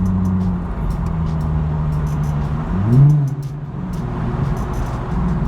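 A car engine hums steadily with a brief rev swelling near the middle, heard from inside the vehicle on a highway without any talking.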